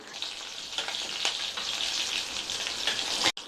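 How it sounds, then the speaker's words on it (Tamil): Mustard seeds, urad dal and green and dried red chillies frying in hot oil, a close, bright crackling sizzle with scattered pops that stops abruptly near the end. "எண்ணெய் சூடாயிடுச்சு. அதில் 1/2 டீஸ்பூன் கடுகு பொரிஞ்சதுக்கப்புறமா அதில் 2 டீஸ்பூன் உளுந்தம்பருப்பு சேர்த்துக்கலாம்."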